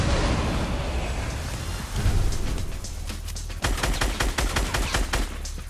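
Rapid gunfire in a Fortnite match on a snowy map, a dense crackling burst of repeated shots that grows sharper and more distinct toward the end, loud and close with no talk.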